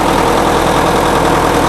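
An International Harvester UD9 diesel engine driving a generator set runs at 50% load, a loud, close, continuous rumbling drone with a steady low pulsing throb and no breaks.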